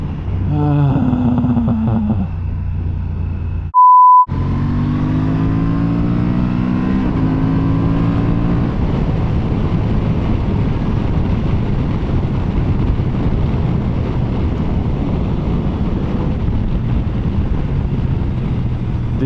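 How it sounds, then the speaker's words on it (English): A Honda XL750 Transalp motorcycle revs and shifts through gears while riding, with rising and falling engine tones between quick-shifter changes, close and loud under steady wind rush after a brief tone. "the quick shifter for the downshifts is so good"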